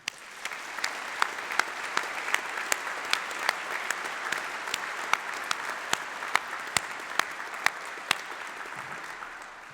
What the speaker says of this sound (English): Can we please have a round of applause for our outstanding graduate faculty?